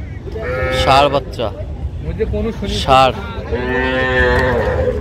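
Crossbred Friesian and Sahiwal heifers moo loudly at a farm, several drawn-out calls close by, with people talking around them.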